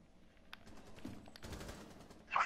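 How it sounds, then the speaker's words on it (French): Gunfire in a Rainbow Six Siege match: a few faint, scattered shots give way to a sharp, louder burst near the end, with low background noise throughout. "Mais Bilal, t'as tiré sur moi."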